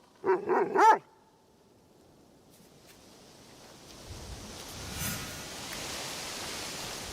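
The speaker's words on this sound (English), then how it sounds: "Auntie Matsu always told me to look out for strange dogs." A dog in the video game Assassin's Creed Shadows lets out a quick burst of three or four sharp barks up close, then falls silent as a soft, rushing outdoor ambience builds.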